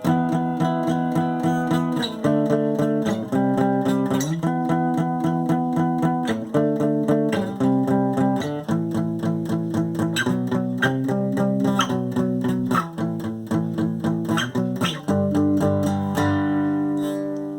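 Electric guitar riff of chugging power chords, steady rhythmic strums changing chord every couple of beats, played alone and fairly clean.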